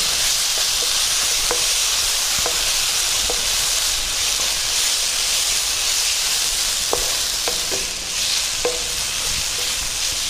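Steady loud sizzle of ginger garlic paste frying in hot oil for a coconut milk curry, with occasional spoon scrapes and taps against the pan.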